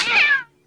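A cat gives a single clear, close meow in a film scene about cats gathering around a house. The cry is short and loud, with nothing else behind it.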